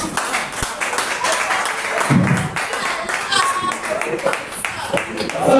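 Scattered applause and clapping from a school audience after a correct answer in an interschool mental arithmetic contest, fairly loud over a noisy room with voices.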